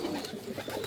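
Pet pigeons coo softly in a short, continuous murmur of low throaty calls, close by and faint, with no speech over them.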